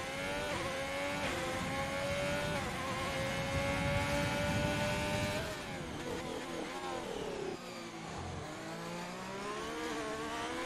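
Race car engine at high revs during a lap of Spa in a racing video game, a loud steady whine with gear-shift pitch drops and continuous droning, no talk.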